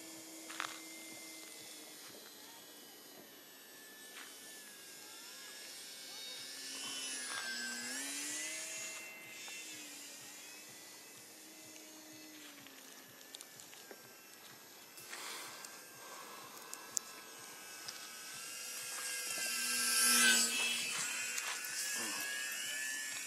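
Whining engine of a 1400 mm P-51D Mustang RC model airplane in flight, a steady distant buzz that rises and falls in pitch as it passes, with louder swells near the end.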